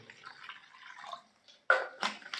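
Water poured into a glass in a few short splashing bursts after a brief quiet pause, close and fairly soft.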